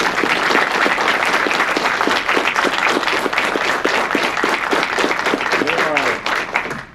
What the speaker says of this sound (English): how about a round of applause for all of your cadre that are responsible for getting you here today?